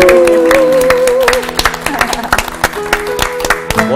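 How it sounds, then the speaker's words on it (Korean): A church audience claps for the accompanist at a Christian music testimony event, a steady mass of applause with sharp individual claps over sustained tones from a piano or keyboard. "박수 한번 부탁드립니다"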